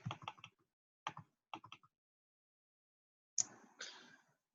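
Short bursts of computer keyboard typing, a few quick clusters of clicking keystrokes separated by pauses, close and quiet in an otherwise silent room.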